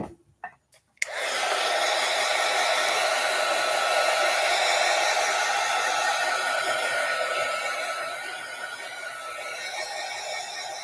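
A hair dryer switches on after a few clicks and blows steadily up close while drying a dog's coat, its airy roar easing slightly toward the end, with no talking.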